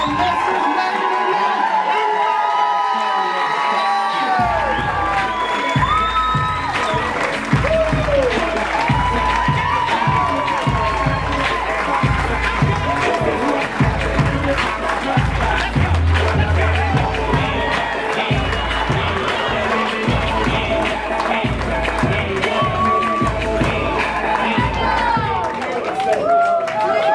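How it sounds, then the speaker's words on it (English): Wedding guests applauding and cheering at a reception, a sustained loud wave of clapping and whoops filling the room, with music and voices mixed in throughout. "let's clap, let's make some noise"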